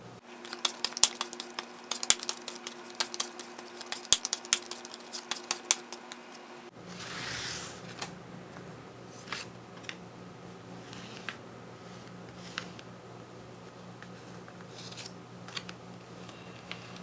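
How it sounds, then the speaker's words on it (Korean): Tarot cards are shuffled and drawn in a quiet room, making soft, rapid clicks and snaps that then thin out into a few scattered taps and slides. "저는 이제 카드를 뽑아보도록 하겠습니다."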